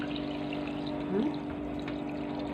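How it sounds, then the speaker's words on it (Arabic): Water pours steadily into a pan of rice with vermicelli, a continuous soft trickle close by with a brief louder splash partway through over a faint background hum. "احط الميه بتاعته كده"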